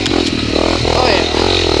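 Honda CRF250L dirt bike engine revving hard while climbing uphill, a loud, close, steady drone with rising pitch and some clatter from the ride.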